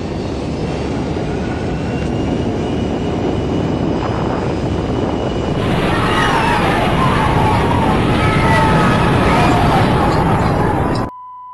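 Aircraft struck by a thermonuclear blast wave, rendered as a loud continuous roar of engine and rushing noise that swells midway into a harsher, brighter rumble before cutting off abruptly.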